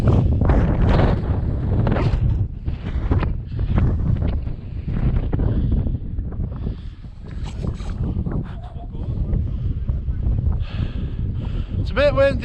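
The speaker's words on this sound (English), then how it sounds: "It's a bit windy." Strong wind buffets the microphone on an exposed mountain ridge above a 1,000-metre drop in Snowdonia, a continuous roaring rush with gusts, while people talk over it.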